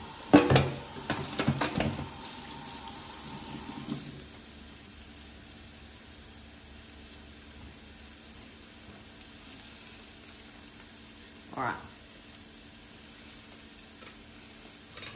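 Pumpkin pieces for a chickpea, pumpkin and spinach curry searing in a hot pan, a steady sizzle with stirring scrapes loudest in the first few seconds, then a quieter continuous fry and a brief clatter near the end.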